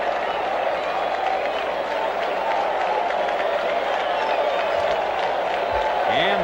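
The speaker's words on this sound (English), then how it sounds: "The fans here at Fenway give him a big round of applause." Fenway Park crowd applauding Sal Bando's grand slam home run in a 1969 Athletics at Red Sox game, a steady roar of clapping and cheering from a large stadium crowd under a commentator's voice.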